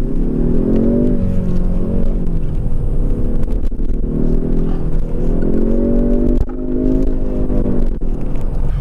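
A Kia Stinger engine rises in pitch as it accelerates, shifts, and climbs again, a steady close rumble heard from inside with traffic passing around it.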